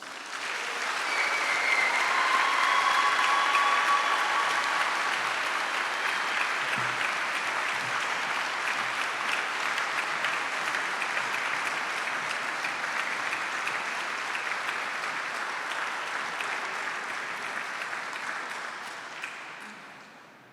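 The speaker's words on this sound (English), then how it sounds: "please join me in a round of applause for our graduating seniors" Sustained, full applause from a large ceremony crowd honoring graduating Naval, Air Force and Army ROTC seniors at Yale's President's Review, swelling quickly and holding steady for about twenty seconds before tapering off.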